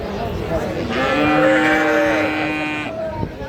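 A bull calf lets out one long, drawn-out moo, loud and close, at a cattle market over a murmur of background voices.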